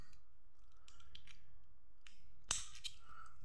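A Weihrauch HW air rifle fitted with a Rekord or Perfekt trigger gives off quiet mechanical clicks and scrapes, then a sharp, loud metallic snap of the action locking as it is cocked, followed by a few softer clicks.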